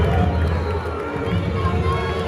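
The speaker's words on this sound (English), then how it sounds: "The crowd's booing, but they're also cheering at Bauscher." A football stadium crowd at a Boise State game against Wyoming, a dense continuous roar of booing mixed with cheering, loud and sustained throughout.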